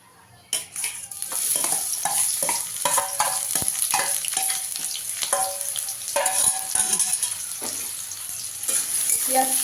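Chopped onion frying in hot oil with cinnamon, a steady close sizzle broken by repeated scraping stirs of a utensil against the pan, with no talk.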